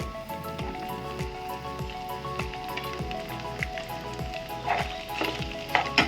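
About twenty dried red chillies and chopped onions fry in a pan, a steady close sizzle with crackling pops and occasional stirring scrapes.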